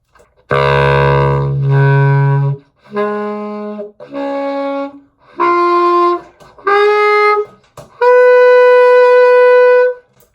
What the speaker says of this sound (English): I would first of all play the overtone series like we did